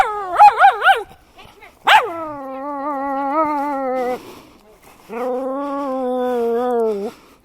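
Dogs meet on a hiking trail and bark and whine, opening with a quick run of sharp yips, then a sharp bark and a long drawn-out whimpering howl. A second sustained whine follows, close and fairly loud.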